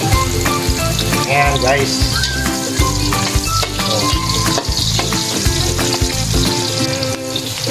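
Pompano fish fries in hot oil in a pan with garlic and onion, a loud continuous sizzle broken by crackling pops and spatters, while a person speaks briefly over it.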